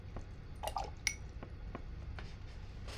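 A paintbrush rinsed in a water container during acrylic painting, with soft drips, swishes and a few light taps against the side, faint and close, otherwise quiet.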